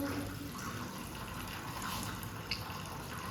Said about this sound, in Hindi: चावलों का पानी उबल गया तो मैं जो चावल धो के लेकर आई और अब जो इसमें चावल डाल रही हूँ।